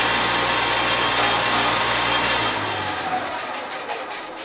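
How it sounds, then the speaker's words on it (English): A wooden banjo bridge foot is sanded, making a loud, continuous abrasive rasp that is coarse at first and thins out after about two and a half seconds. "I just sanded the foot slightly."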